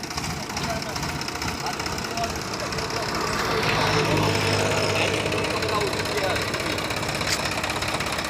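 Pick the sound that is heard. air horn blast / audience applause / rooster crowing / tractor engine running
tractor engine running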